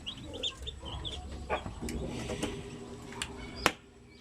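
Shamo Aseel chicks peep in short high chirps scattered over a background of adult chicken clucking and farmyard noise, fairly faint and close, with one sharp louder cheep near the end.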